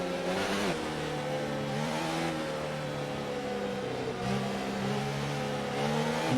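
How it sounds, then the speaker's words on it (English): Race car engine in a racing video game, set at the German GP, revving hard during wheel spin to heat the tyres, a loud steady mechanical drone with rising and falling pitch sweeps throughout. "He's going to obviously just put himself into doing some wheel spinning now."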